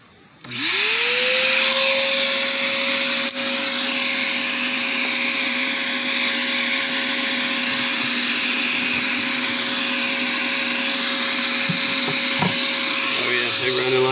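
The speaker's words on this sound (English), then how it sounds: "I'm gonna go ahead and crank that vacuum up again" A vacuum cleaner starts up, its motor rising to a steady, loud whine that keeps droning without a break, with faint clunks near the end.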